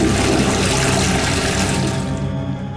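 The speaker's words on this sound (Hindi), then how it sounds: "वो मैंने टॉयलेट में फ्लश कर दिए थे" A toilet flushing in a domestic scene, a loud continuous rush of swirling water close by that holds steady for nearly three seconds before easing slightly at the end, with no voices.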